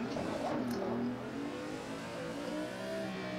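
Car engine revving in the Assetto Corsa racing game during a drift, a steady loud droning engine note that holds throughout with a slight surge early on.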